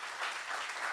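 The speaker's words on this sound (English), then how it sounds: "let's please give him a round of applause" Brief burst of audience clapping at a book talk, a dense, even patter from a gathered crowd with no voices.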